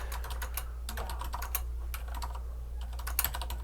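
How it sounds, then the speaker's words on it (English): Steady, rapid typing on a computer keyboard while composing a Microsoft Teams message: close, crisp key clicks in an uneven rhythm throughout, with a low hum underneath. "type whatever you want"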